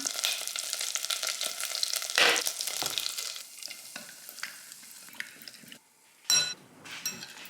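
Half a tablespoon of butter and a spoonful of tomato paste sizzle and sputter in a pan, with intermittent scraping and stirring clatter close by, a brief louder burst near the middle and again toward the end.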